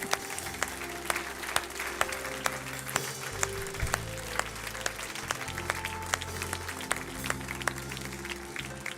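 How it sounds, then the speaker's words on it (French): A church congregation applauds steadily throughout, a dense, even wash of many hands clapping in a reverberant hall, moderately loud with a faint murmur beneath. "donne-lui une bonne main d'acclamation ce matin"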